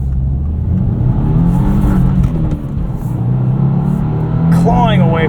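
A 2025 Subaru WRX tS accelerating hard from the driver's seat, with a steady loud engine drone that rises and shifts pitch, tires clawing for grip, as someone talks over it.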